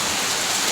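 Steady, dense rain falls on a surface, a loud continuous hiss with no other sounds.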